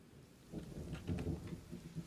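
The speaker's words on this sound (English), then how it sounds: "Acid rain, not good." Acid rain falling with rolling thunder in the video game Kenshi, a steady wash of rain under low rumbles that swell twice and then ease, with no talking.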